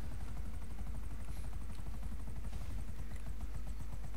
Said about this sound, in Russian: У меня чуть вертолет не заглох